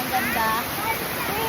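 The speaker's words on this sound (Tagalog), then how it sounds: "Tapos kung maririnig niyo yung sound ng tubig, talaga naman" Running water at a cold river resort, a steady broadband rush of flowing water filling the scene, with a person speaking briefly over it.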